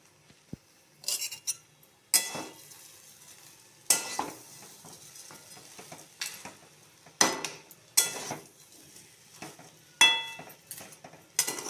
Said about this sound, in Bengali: ভালো করে চালগুলোকে এবার ভেজে রাখা রুই মাছের মাথাগুলো দিয়ে দেবো, দিয়ে আমি চালগুলোকে আরেকটু ভাজা ভাজা করব।